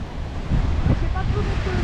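Steady wind buffets a long beach on Saint Martin at Maho, with a constant loud rumbling roar and microphone gusts that swell midway through.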